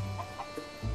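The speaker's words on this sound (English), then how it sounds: "That's a lot of chickens." Chickens in the video game Zelda: Tears of the Kingdom give a few short, soft clucks over steady game music, ending in a low thump.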